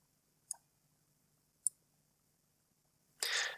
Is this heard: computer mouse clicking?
yes